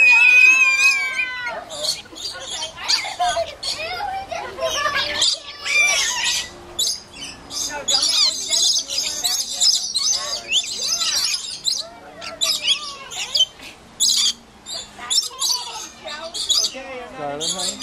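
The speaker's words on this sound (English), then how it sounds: "Oh, I have a bird on my head." Several birds squawk, chirp and screech loudly and close by in dense overlapping bursts, with people talking among the calls.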